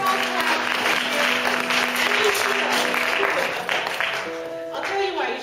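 An audience applauds the speaker's wife, Kay, at a university lecture, with steady dense clapping throughout and some voices and tonal sounds over it.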